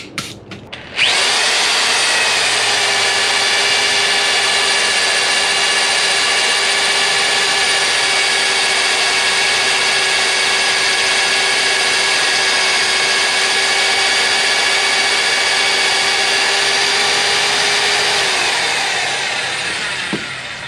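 A homemade cutting bit line-bores the number 4 bearing of a VW engine. The boring tool whines loud and continuous for about 19 seconds, close up, then tapers slightly at the end.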